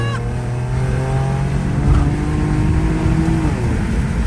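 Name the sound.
Infiniti Q60 car engine running while being driven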